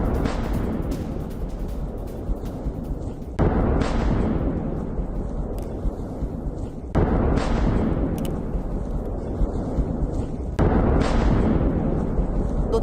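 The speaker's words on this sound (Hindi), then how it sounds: "बेलगोरोद में सुने गए हैं 10 से ज्यादा धमाके।" Explosions from a Ukrainian drone and missile attack on Belgorod, heard as a continuous roar of rumbling blasts that surges louder in several waves, with a fresh burst about every three to four seconds and no talk.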